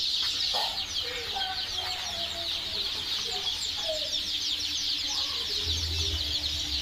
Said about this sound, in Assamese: এটা লোকেল মুরগি